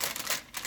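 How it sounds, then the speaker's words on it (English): Baking paper crinkling and rustling as it is laid over a tray of vegetables, a short burst of close, crisp crackles with a brief pause midway. "Make sure that you cover it with baking paper"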